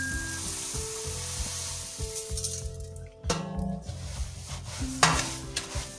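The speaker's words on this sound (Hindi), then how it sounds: "अब मैं इसमें तमाम मुरमुरे डाल दूंगी" Puffed rice stirred into hot jaggery syrup in a pan, a continuous crackling sizzle with scraping spoon strokes and occasional metallic clinks, close and fairly loud without any talking.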